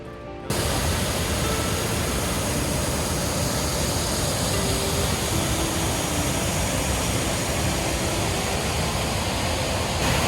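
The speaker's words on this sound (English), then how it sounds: "the rumble of the water is getting louder" Loud, steady roar of rushing water in Bago State Forest fills the scene from just after the start, a constant broadband rumble with no breaks.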